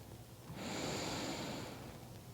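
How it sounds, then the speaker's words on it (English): A single deep breath drawn in through the nose during a yoga and Pilates session, close and soft, swelling over about a second then easing off into quiet. "Take one more deep breath in"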